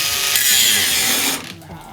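A cordless Bosch angle grinder fitted with a grinding disc bears down hard on a thick weld seam, giving a loud, steady rasping whine that cuts off sharply near the end and leaves a fainter, rougher tail.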